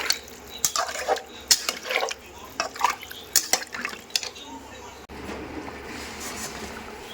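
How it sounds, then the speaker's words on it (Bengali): Water goes into a pan of curry, first as scattered splashes and clinks of the pan, then as a steadier, softer pouring wash near the end. "কষানো হয়ে গেছে, এবার জল দিয়ে দেবো।"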